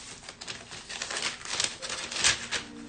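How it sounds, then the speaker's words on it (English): Paper crinkling and rustling close by while acrylic stencils are being handled, in irregular crisp bursts with a couple of louder scrapes near the end, no voices. "sorry for the paper noise."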